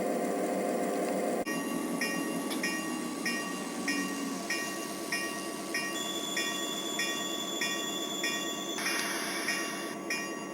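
A mixed freight train passes at Hillside Station in a snowy setting, its rolling wagons giving a steady rumble with repeated clicking wheel beats and faint high squeals, fairly distant and with no voices.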